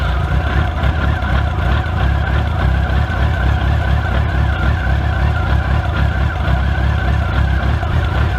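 Yamaha FJR1300 motorcycle engine idling while warming up after sitting unused for a while, a steady low rumble that holds even and unbroken throughout, close and fairly loud with no talk over it.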